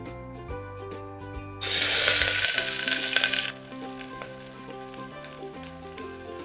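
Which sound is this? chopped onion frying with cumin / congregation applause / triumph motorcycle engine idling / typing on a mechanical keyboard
chopped onion frying with cumin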